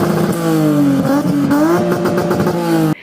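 A car engine revs hard against the rev limiter with a loud, buzzing, stuttering drone that wavers and bounces in pitch for about three seconds before cutting off abruptly, with no talking.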